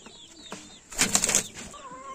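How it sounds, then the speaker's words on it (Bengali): A green Madras pigeon, a male shown for sale, flaps its wings in a short, loud flurry of rapid beats lasting about half a second, with quieter rustling before and after. "আরেকটি সবুজ মাদ্রাস পায়রা বিক্রি আছে দেখুন বন্ধুরা"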